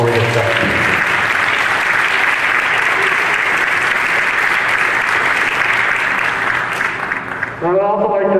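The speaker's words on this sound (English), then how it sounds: "why don't we just give them a round of applause before we get started" A gymnasium audience at a high school wind symphony concert gives the band loud, sustained applause that fills the space, then fades as a speaker begins talking.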